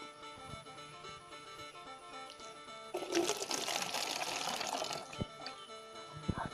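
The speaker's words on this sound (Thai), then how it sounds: "อันดับแรกเราก็จะใส่น้ำมะพร้าวลงไปก่อนนะครับ" Coconut water, two coconuts' worth, pours into a tall bottle used for fermenting a microbial starter, giving a rushing splash of about two seconds over a steady background hum.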